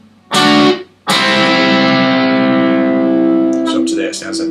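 Distorted electric guitar plays a solo phrase: a short double-stop stab, then a long sustained bent double stop ringing out, followed by a few quick picked notes.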